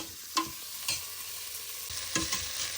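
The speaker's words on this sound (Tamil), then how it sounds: "வெங்காயம் வதங்கி கொண்டு போய் நாங்கள் வெட்டி வச்ச ஒரு உருளைக்கிழங்கையும் இதோட சேர்த்து நாங்கள் வதக்கி எடுப்போம்." Onion and potato sauté in a pan for a chicken soup with vegetables, a soft, continuous sizzle broken by a few distinct scraping stirs of the spoon. The sound is quiet and close, with no talking.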